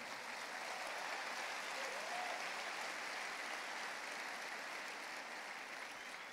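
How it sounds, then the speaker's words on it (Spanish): A congregation claps in a church service, a steady, distant wash of applause sustained throughout at low level. "Denle un aplauso al Señor"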